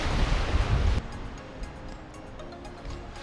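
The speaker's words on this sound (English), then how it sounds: "See, it's really, really windy" Strong wind on a lake shore near Eagle Mountain, Minnesota, roars and buffets the microphone for the first second, then drops to a softer gusty rush with distant waves lapping.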